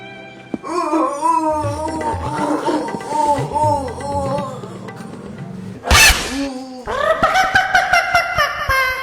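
A dog yelps and howls in drawn-out, wavering whines with short barking bursts, loud and close, alongside a sharp shrill cry midway; a voice may murmur briefly underneath.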